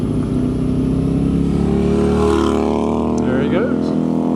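On the Tail of the Dragon mountain road, a rider's own engine drones steadily while another motorcycle swells past close by. A voice talks over the engine noise.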